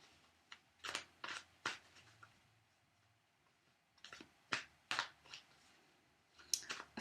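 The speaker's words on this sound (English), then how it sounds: "Feel free to skip ahead if you don't want to watch the shuffling" Tarot cards are shuffled in quiet, crisp bursts of riffling and snapping, separated by short pauses, close by with no talking.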